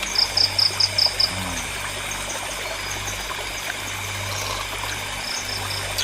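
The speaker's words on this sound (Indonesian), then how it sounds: "Jangkrik, suara jangkrik cerak gitu ya." Crickets chirp in short, bright pulsed trills at a solo camping site, a quick burst at the start and another near the end, over a soft steady hiss of outdoor background.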